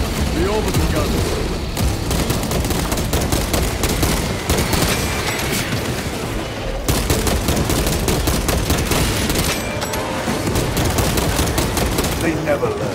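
Orbital guns blasting away in Space Marine 2, a loud continuous barrage of heavy gunfire and booming shots that keeps up nearly without pause, with no one speaking.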